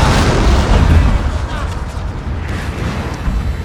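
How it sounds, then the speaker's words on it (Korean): Dense cannon and artillery fire from a siege battle in the video game Shogun 2, with catapults also launching; a continuous loud barrage of booms and rumbling blasts fills the whole stretch with no pause. "앞에는 대포를 쏘고 뒤에는 투석기 날리고"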